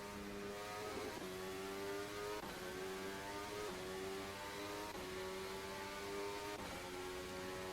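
A Formula 1 car lapping through the final corners of the Australian Grand Prix circuit, its high-pitched engine screaming steadily, with repeated downshifts and rising revs as it brakes and accelerates; loud and continuous with no talk.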